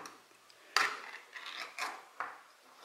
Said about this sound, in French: Ouverture du thon.